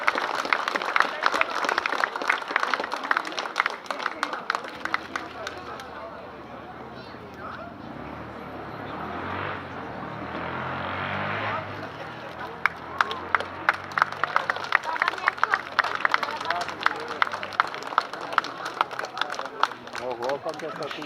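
Warm applause from a festival audience welcoming the Troczanie song and dance ensemble onto the stage, a dense, steady wash of clapping lasting throughout with a voice talking over the start.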